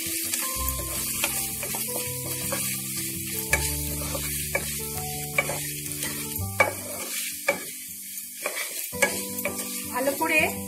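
A spatula stirs turmeric, chili powder and beet salt through a frying pan of achari paneer, with scraping strokes and a light sizzle that rise and fall irregularly under a steady tonal background of music.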